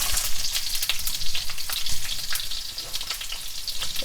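Onions sautéing in a pan for a paneer and pepper curry make a loud, close, continuous crackling sizzle with quick bursts as they are moved around.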